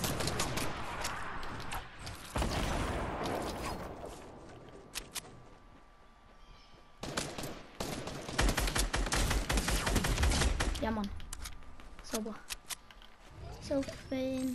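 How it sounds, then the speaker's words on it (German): Bursts of rapid gunfire crackle in a shooter game, arriving in dense clusters separated by quieter stretches, while a player talks over parts of the action. "ich schieß da unten rein"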